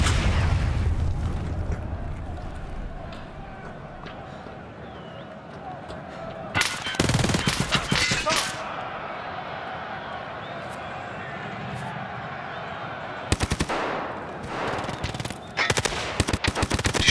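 Bursts of automatic gunfire and booming hits in Escape From Tarkov Arena, two dense volleys separated by quieter stretches of game ambience and a low rumble, with a player's voice occasionally heard.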